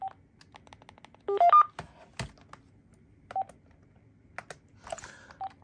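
An AT&T CL83464 cordless phone gives a handful of brief keypad beeps, including one quick cluster of tones, near and clear, spaced out among soft button clicks in a quiet room.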